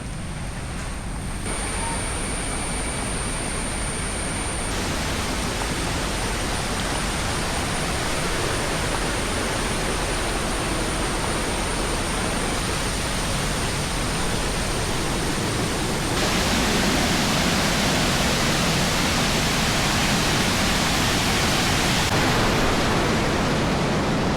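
Areekkal waterfall in Mannathoor swollen after heavy rain, a loud unbroken roar of falling water filling the whole clip, growing slightly stronger in the later part.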